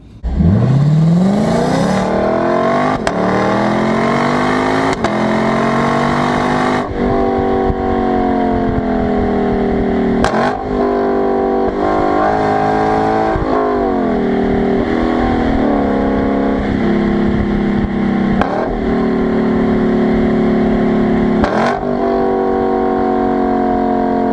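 A 2018 Lexus LC 500's 471-horsepower naturally aspirated V8 revs up loudly, then holds a strong, rising roar with several sharp gear-like shifts and blips throughout.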